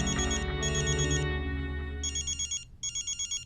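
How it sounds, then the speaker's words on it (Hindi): A telephone rings in a Hindi TV crime drama, in electronic trilling bursts, first fading under a sustained tone, then two more clear ring pulses. "साहब, खबरी का फोन है।"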